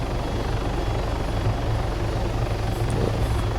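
A helicopter flies in the Arma 3 military simulator, a steady loud rotor and turbine drone that holds even throughout, with no speech.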